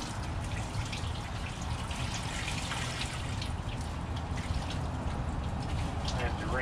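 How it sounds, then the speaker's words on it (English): Water trickles and drips steadily while a wet tie-dyed flat sheet is wrung out by hand, a continuous close splashing wash with no break. "Might take me a second to wring it out"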